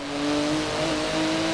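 Turbocharged, lowered Volkswagen Kombi van engine accelerating hard, with a loud close whine that climbs steadily in pitch over a low engine drone, sustained throughout.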